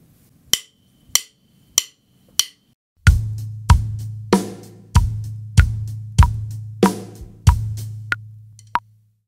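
A drum kit plays a straight eighth-note groove from a song. A few sharp clicks of cymbal or stick count it in, then steady loud kick and snare hits with ringing cymbals settle into an even beat, close and without talk.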